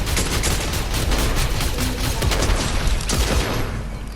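Gunfire in Fortnite, a dense continuous volley of rapid shots at close range, loud and unbroken for several seconds, with a heavier blast near the end.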